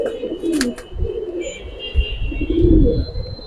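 Giribaz pigeons coo in low, throaty repeated calls close by in a loft, with a few sharper chirps and clatters in the background.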